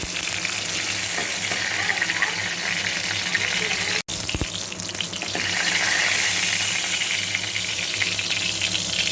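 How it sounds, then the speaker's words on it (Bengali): Pieces of pointed gourd (potol) fry in hot oil in a wok with a loud, steady sizzle while a ladle stirs and lifts them out, broken by a split-second dropout midway. "পটলগুলো প্রায় লাল লাল করে ভাজা হয়ে গেছে এবার আমি কড়াই থেকে পটলগুলো শুধু তুলে নেব"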